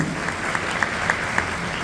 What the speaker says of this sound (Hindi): एक जोरदार ताली होना चाहिए सभी को, जबरदस्त ताली होना चाहिए।